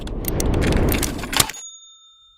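A bright notification bell dings over a short dense swoosh, then a clear ringing tone lingers and fades into silence.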